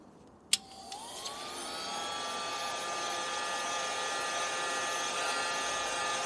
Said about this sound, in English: Get the old hairdryer on steroids here